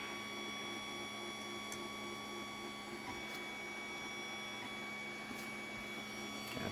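A Creality Ender 3 3D printer runs with a steady, close electronic whine and stepper-motor hum, a continuous even drone with faint periodic ticks and no pauses.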